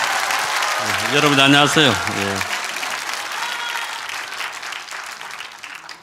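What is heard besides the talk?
audience applause welcoming the speaker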